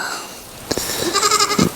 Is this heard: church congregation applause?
no